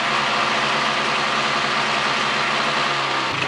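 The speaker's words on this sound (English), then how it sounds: "I'm going to rev the engine up." A Polaris 400L engine held at raised revs roars loudly and steadily, a dense continuous mechanical noise that eases slightly near the end.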